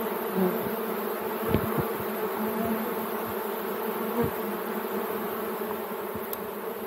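Honey bees buzz in a dense, continuous drone as they are shaken from a frame into another hive, with a few dull knocks and thumps breaking through the steady swarm sound.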